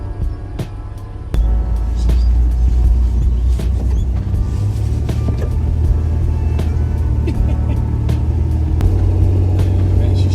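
A car engine drones steadily while driving and labors up hills, a loud low rumble that jumps in strength early on and then holds with road noise and occasional knocks and rattles.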